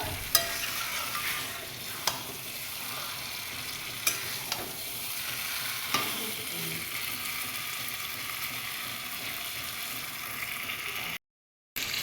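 Meat being sautéed in a pan, with a continuous low sizzle and spatula scraping, punctuated by a few sharp metallic taps against the pan, recorded close with no talking.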